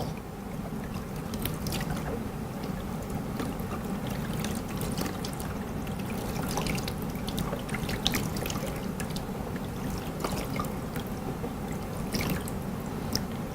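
Bath water scooped and poured over a baby during a bath, a continuous soft trickling and splashing that runs steadily throughout with no talk.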